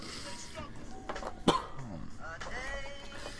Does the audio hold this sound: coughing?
yes